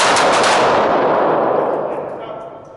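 Loud, close gunfire in a shooting drill: two sharp reports in quick succession at the start, then a long echoing tail that slowly fades.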